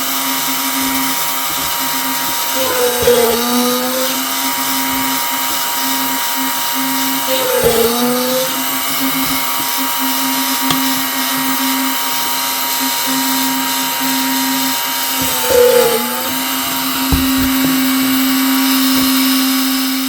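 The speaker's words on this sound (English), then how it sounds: "Now I need to drill the holes, and then we'll stitch it up" A small drill bores stitching holes in a leather knife sheath for a restored Ulster Boy Scout knife, a steady whining motor hum broken by three brief dips in pitch as the bit bites, fairly close.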